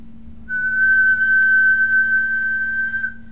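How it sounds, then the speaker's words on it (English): A person whistles one steady high tone for about two and a half seconds, close and loud, over a faint low electrical hum. "what I'm going to do is whistle"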